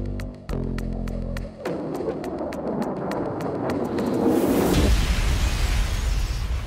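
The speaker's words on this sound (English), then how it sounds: "We see the missiles hit the Eiffel Tower," Missiles strike the Eiffel Tower in a film's opening sequence, a heavy booming blast that swells into a long rumbling, crackling roar of debris, loud and alone.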